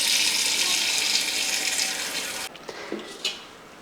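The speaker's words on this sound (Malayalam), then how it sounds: "ഈ അരിഞ്ഞ് വെച്ചിരിക്കുന്ന മീനെല്ലാം നമുക്കൊന്ന് കഴുകിയെടുക്കണം." Tap water runs strongly into a sink as cut fish are washed, a close, loud splashing rush that stops abruptly partway, followed by a few light clinks and handling sounds.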